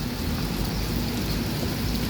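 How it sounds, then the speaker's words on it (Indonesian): Heavy rain pours down at the Alang-Alang Lebar bus terminal, a loud, dense, unbroken hiss of falling water on surfaces with no talking. "Kondisi terkini lagi hujan di terminal."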